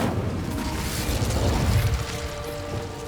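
Incendio fire spell cast in Hogwarts Legacy, a steady whooshing, crackling roar of flame with mechanical clicks and low booming underneath, loud and continuous for about three seconds before easing slightly.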